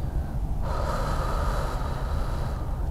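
A long, breathy exhale during a relaxation breathing exercise, close and steady, lasting a couple of seconds over a soft background hiss.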